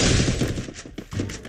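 Rapid bursts of gunfire crackle in a mobile shooter video game during a 4x4 match, loud and dense at first, then thinning into separate shots and a final short burst.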